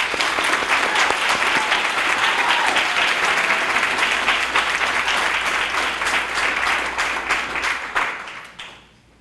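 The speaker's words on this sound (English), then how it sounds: "give them both a round of applause" An audience at a graduation ceremony bursts into full, dense applause that holds strong for several seconds, then quickly thins and fades out at the end.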